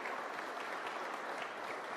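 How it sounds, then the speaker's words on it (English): An audience applauds legislators at a governor's bill signing: steady, dense clapping from a crowd, faint and somewhat distant, with no voices over it. "Can you just applaud all the legislators who worked on this?"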